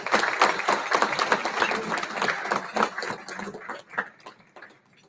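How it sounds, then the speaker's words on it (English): Audience applauding inductees at a golf hall of fame ceremony, a lively burst of many hands clapping that gradually thins out and fades toward the end. "So let's give them a round of applause."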